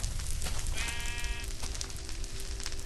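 A sheep in Minecraft gives a single short, nasal bleat against a steady busy background of game ambience and music, with no voices.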